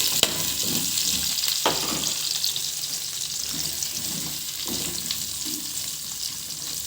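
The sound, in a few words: frying Indian gooseberries and green chillies in oil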